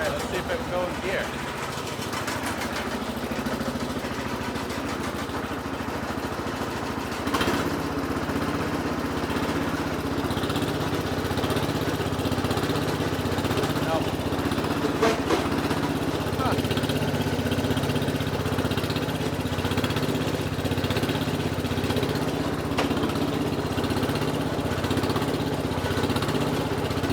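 The 1966 Sears Suburban garden tractor engine runs steadily in gear, a constant mid-pitched mechanical drone with a faint load change partway through, close and continuous for the whole stretch.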